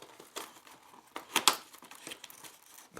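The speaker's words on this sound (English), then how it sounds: "let's go ahead and open the box up by, of course, cutting apart the sticky seal" Packing tape seal on a small box for a wearable fan being cut and pulled apart, a few short crinkling rips and tears, close and quiet, with pauses between.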